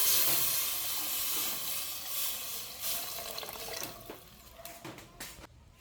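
Water poured into a hot pan of chayote cooked with a little soy sauce, a loud steady hiss and sizzle that gradually fades and breaks into scattered crackles.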